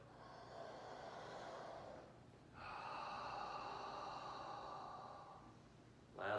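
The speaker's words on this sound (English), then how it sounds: "I like just a couple of deep breaths" Deep breaths drawn into the low belly: a long, airy inhale, a brief pause, then a longer steady rushing exhale, close and quiet, with a sharp intake starting at the end.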